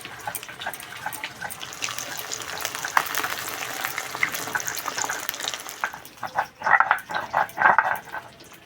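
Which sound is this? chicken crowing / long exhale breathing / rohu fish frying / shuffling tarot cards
rohu fish frying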